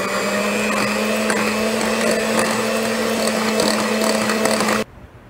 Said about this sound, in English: I'm going to beat these up a little bit